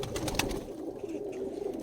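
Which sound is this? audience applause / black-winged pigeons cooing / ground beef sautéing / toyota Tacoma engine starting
black-winged pigeons cooing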